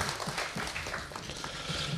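Applause from an audience at a local Hungarian award ceremony, a steady patter of many hands clapping at moderate distance, fairly faint and continuous with no voices over it.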